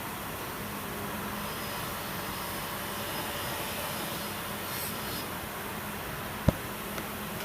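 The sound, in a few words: wire wheel spinning on a power tool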